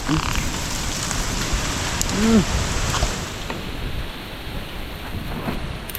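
Heavy rain pours steadily with a deep, continuous rumble of thunder underneath; a brief frog-like croak pops up midway.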